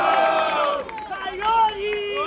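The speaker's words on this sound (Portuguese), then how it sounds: "barulhos, barulhos pra quem gostou das rimas do Caiori" Crowd at a student rap battle, the Batalha dos Estudantes, cheering and shouting loudly and continuously, with a host's voice over the noise.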